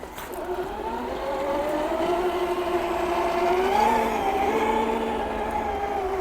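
A custom-built RC trail truck crawls along in low gear, its electric motor giving a continuous whining drone that rises and falls slightly in pitch with load, close and steady with no voices.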